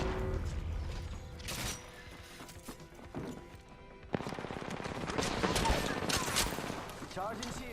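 Video game gunfire rattles in steady bursts of rapid shots, near and fairly loud, mixed with other game effects while a voice talks over the action.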